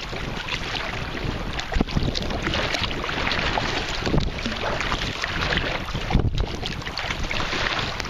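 Waves on Lacanau lake wash and slosh steadily around a sea kayak or canoe, close and continuous, mixed with heavy wind buffeting the microphone.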